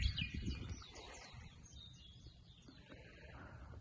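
Faint birds chirp and tweet in the distance at a quiet, shallow island harbour, short repeated calls over a low outdoor rumble of gentle waves.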